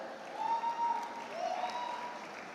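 An audience at a university graduation ceremony claps steadily, a dense wash of applause that swells slightly and carries on without pause, with faint tonal sounds above it.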